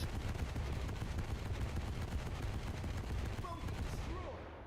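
Sustained, dense rapid-fire bursts of anti-aircraft autocannon fire in the War Thunder video game, loud and continuous as a wall of shells, easing off and fading near the end.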